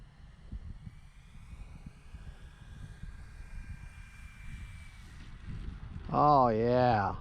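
An E-flite Carbon Z Cub SS electric RC airplane flies on a cloudy day, its motor a thin, faint, distant whine over wind noise, and a voice speaks near the end.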